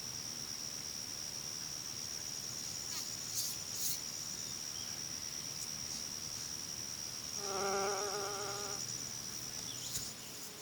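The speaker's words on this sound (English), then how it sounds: "Bumblebees. Now, I looked them up online to see what they were, and they're called bumblebees." Bumblebees buzz around an off-grid forest garden, with one passing close for a brief loud drone over a steady high insect whine and faint outdoor ambience.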